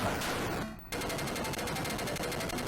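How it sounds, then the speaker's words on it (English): Rapid-fire guns from Screaming Wings, an Atari 8-bit video game, chatter in a loud, continuous electronic burst of evenly spaced shots, briefly cutting out near the one-second mark before resuming. "There we go, rapid fire, that's what we want."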